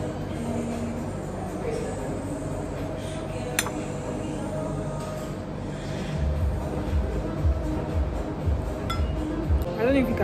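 A fork or spoon scrapes across a plate of cold cake in a restaurant, giving a few sharp, scattered clinks. The sounds are faint under a steady wash of room noise and nearby voices.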